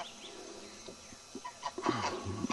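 Backyard chickens give a few faint, scattered clucks that grow busier toward the end of a short stretch, with no one talking.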